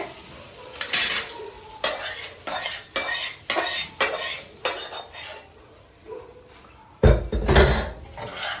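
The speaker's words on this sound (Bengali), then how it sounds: "এখন মাছের মুড়োগুলো আমি কি করছি, মিশিয়ে দিচ্ছি" Fish heads being stirred and mixed in a cooking pan: a rhythmic series of loud metal spoon scrapes and clanks against the pan, roughly one stroke per second, ending with a heavier clatter.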